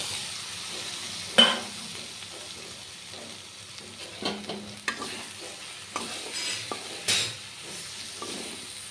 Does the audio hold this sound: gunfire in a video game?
no